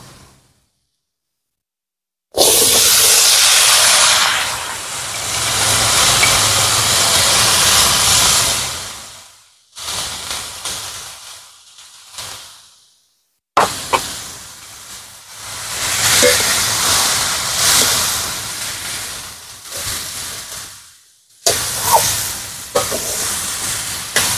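Ash gourd being cooked with spices in a pan, for a prawn and ash gourd dish: loud, close, hissing sizzle in long bursts separated by short silences, rising and falling as the pieces are stirred.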